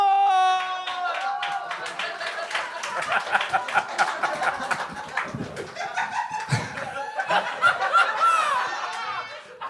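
A studio audience at a Montreal comedy gong show claps and laughs as a guest comedian is introduced, with sharp clapping mixed with high whoops and whistles that swell and ebb throughout.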